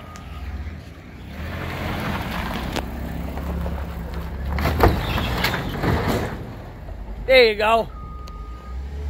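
A 1996 Nissan Pathfinder being parked tight between other cars, with a low engine rumble and a brief pair of high reversing beeps near the end, while people talk over it.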